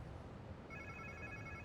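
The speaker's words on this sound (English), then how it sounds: "Sounds like somebody's phone." Faint phone ringtone in Marvel's Spider-Man 2 video game, a short electronic ring starting partway through, quiet beneath a low background rumble.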